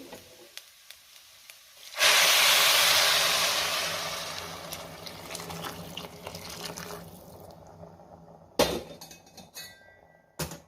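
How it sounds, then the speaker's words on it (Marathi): Hot water poured onto sautéed rice for khichdi brings a sudden loud rush of hissing and bubbling that slowly fades, followed by a sharp clatter of utensils near the end. "आता मी यामध्ये गरम पाणी घालते।"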